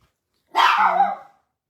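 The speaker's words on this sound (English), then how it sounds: "I'm going to pick her up so she will stop barking." A single sharp, loud dog bark rings out close up, then cuts to silence.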